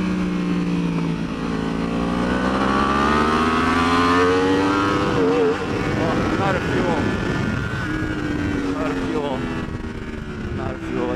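A 2015-or-later Yamaha R1 sport bike pulls hard out of a corner on a race track, its loud engine note rising through second gear in sweeping harmonic climbs over steady wind roar.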